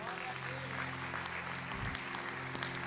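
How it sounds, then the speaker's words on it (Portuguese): Church congregation applauding during a sermon, a steady broadband clatter of clapping that fills the space, with a low sustained organ or keyboard tone underneath. "Aplaude, ele aplaude."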